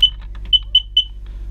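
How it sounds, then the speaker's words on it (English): A boat's smoke detector under test lets out short, loud beeps: a brief one at the start, then three evenly spaced chirps about a quarter second apart, with a low steady hum behind them. "that's a smoke detector"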